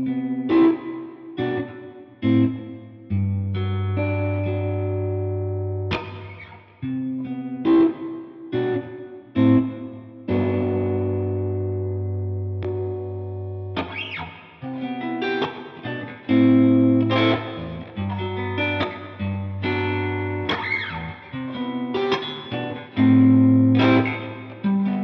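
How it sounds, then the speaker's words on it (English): Electric guitar played through an HX Stomp dual-amp preset with reverb turned up: distorted chords and ringing single notes with stereo chorus-like shimmer and echo tails, strummed phrases stopping and restarting, loud and alone. "Snapshot three, get a little more reverb."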